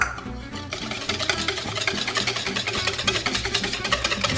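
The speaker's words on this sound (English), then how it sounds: "Whisk them up" A whisk beating egg yolks into a cheese soufflé sauce in a pan, a steady, fast rhythmic scraping and clicking that is close and continuous after a brief start.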